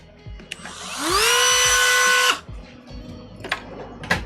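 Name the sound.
Dremel rotary tool grinding on an RC truck kit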